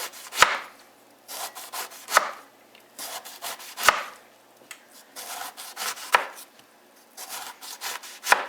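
A knife slices through eggplant on a cutting board for eggplant parmesan, giving repeated sharp chopping strokes in an irregular rhythm, close and clear, with no talk.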